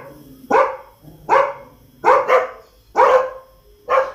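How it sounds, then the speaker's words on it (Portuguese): A dog in the Roblox video game barks five loud, sharp times, spaced about a second apart. One bark is doubled, and the barks are close and clear with no talk. "esse cachorro aí"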